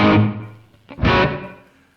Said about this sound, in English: Let's use this together with the tremolo and the spring, which is a combination which works very well in my opinion.